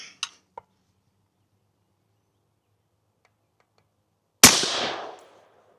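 A Steyr AUG rifle fitted with a KNS Precision discarder fires a single round, one sharp loud report with a decaying outdoor echo, preceded by a couple of small clicks and otherwise near silence.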